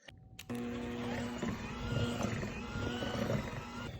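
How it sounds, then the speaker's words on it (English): An electric mixer whirs steadily for about four seconds while it blends a gluten-free lemon bar crust, starting abruptly after a short quiet moment and holding a constant motor hum with a faint rattle, close and fairly loud. "Use a mixer."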